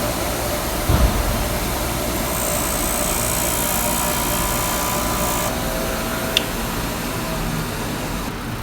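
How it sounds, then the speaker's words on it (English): A small table grinder sands a metal sensor mount from a Dodge Dart SXT, a steady loud motor drone with grinding noise running throughout, one brief sharp tick near the end. "I'm going to use our little table grinder."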